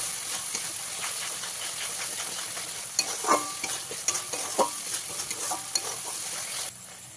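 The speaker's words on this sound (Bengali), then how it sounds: "তেলের মধ্যে হলুদের গুঁড়োটা দিয়ে নিতে হবে। দিয়ে এবারে মশলাটাকে খুব ভালো করে কষিয়ে নিতে হবে" Turmeric powder and spice paste fry in oil while being stirred hard, a constant bright hiss broken by scraping, clattering spoon strokes in the second half, close and moderately loud.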